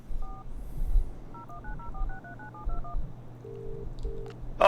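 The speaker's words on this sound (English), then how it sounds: "I'm actually trying to use the phone here." Telephone keypad tones from the video game Broken Sword 3: The Sleeping Dragon, a quick run of short dialing beeps over a low hum, then a couple of longer tones and a faint click at the end.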